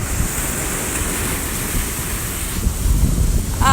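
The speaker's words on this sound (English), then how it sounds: "the big waves and swells." Big storm-surge waves from Hurricane Dorian pound the shore at King and Prince Beach on St. Simons, a steady roaring wash of surf under gusting wind and microphone buffeting, swelling louder near the end.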